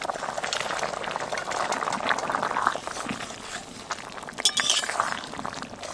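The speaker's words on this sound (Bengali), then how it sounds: "ঝোলটা একটু ফুটিয়ে নিলাম" Fish curry gravy bubbles steadily in a pot on a village stove, a dense, continuous simmering gurgle heard close, with a couple of brief metallic clinks near the end and no talking.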